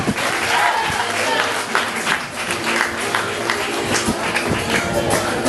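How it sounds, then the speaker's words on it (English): Steady, loud applause and clapping from guests at a wedding reception as the wedding party is introduced, a dense continuous crowd sound with cheering mixed in throughout. "Just give a round of applause to the wedding party there"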